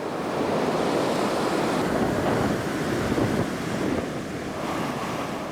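Ocean surf breaks continuously on a West African coast, a broad steady wash of waves with heavy wind rumble buffeting the microphone, loud and unbroken with no voices.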